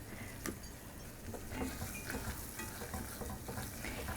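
Flour cooking in a pan for a cream sauce, a soft, faint sizzle with scraping stirring strokes recurring throughout, close by and without speech.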